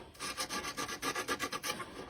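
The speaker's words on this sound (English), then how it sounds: "I'm going to take a little bit stiffer sanding paper and get that off" Rhythmic back-and-forth rasping of stiff sandpaper on an old wooden chair, about a dozen quick strokes, close and fairly quiet, with no talking.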